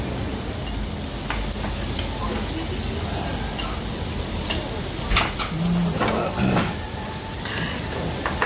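Pork belly (samgyeopsal) with scored cuts frying on a grill at lunchtime, giving a steady sizzle with a few soft stirring and clinking sounds, all close and moderately loud, with no voices.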